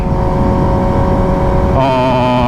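A 2021 Kawasaki ZX6R sport bike with an untuned full-system aftermarket exhaust, engine droning loud and close at steady revs, then pitch rising sharply as it revs up near the end.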